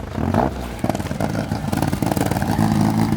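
An Opel Astra engine, running again after nearly two years unused, idles and revs with a rough, clattery rumble, loud and close, sustained throughout with uneven pulsing.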